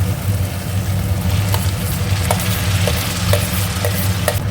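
Ground black gram (biulir dal) paste with salt and roasted cumin and fennel powder frying in a home kitchen pan, a steady loud sizzle with regular stirring scrapes and a low hum beneath, no talk.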